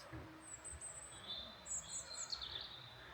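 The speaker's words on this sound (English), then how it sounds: "You can hear the birds singing in the trees." Birds chirping and singing in high, scattered calls in the trees of ancient woodland around Ewloe Castle, somewhat distant, over a low rumbling outdoor background.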